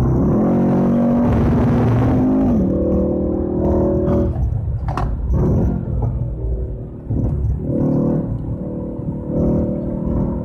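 A Mercedes E63 AMG takes a long right-hand turn on an F1 circuit, its engine a loud, deep rumble with revs that rise, dip and climb again, backed by steady tyre and road roar.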